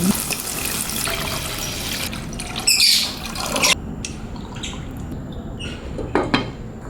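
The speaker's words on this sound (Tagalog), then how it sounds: "Lagyan na natin ng tubig." Water runs from a tap and splashes into a cooking pot for misua soup with patola, a loud gushing spray that stops partway through, followed by quieter clinks and drips.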